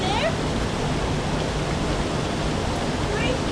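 Rushing water outdoors on a mountain wilderness river with waterfalls, a steady broadband wash of flowing stream and falling water that holds constant and fairly loud throughout, with no other clear sounds over it.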